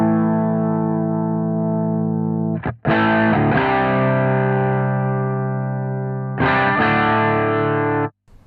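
Electric guitar through a Strymon Riverside overdrive pedal with the gain pushed up rings out in thick, sustained distorted chords, loud and close, with a short break and a fresh strum partway through.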